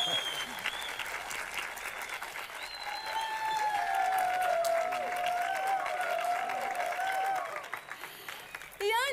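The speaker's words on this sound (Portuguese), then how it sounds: "Uma salva de palmas para ele," A live stage event crowd gives sustained applause for the mayor, broad clapping swelling and holding strong, with a thin whistling tone gliding over it before the clapping trails off.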